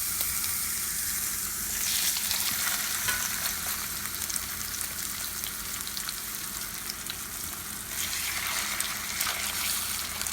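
Pork chops sizzle steadily in a cast iron pan, a continuous bright crackling hiss with occasional shifts as the meat settles, no voices.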